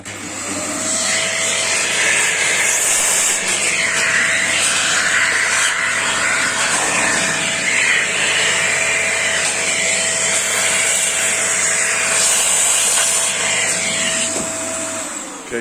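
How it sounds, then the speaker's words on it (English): A vacuum cleaner runs steadily and loud for about fifteen seconds while cleaning used PC parts for a budget gaming build, its motor a constant high whine with a stable tone throughout. "Then we'll get the vacuum."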